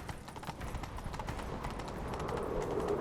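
Horse hooves galloping in the video game Witcher 3, a rapid, continuous clip-clop rhythm that holds steady and fairly loud for the whole stretch, with no talking.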